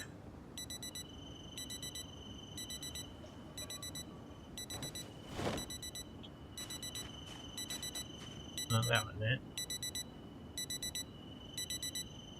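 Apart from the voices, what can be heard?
black digital watch alarm beeping in Project Zomboid video game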